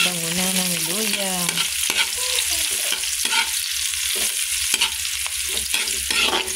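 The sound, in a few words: ginger sautéing in a pan for tinola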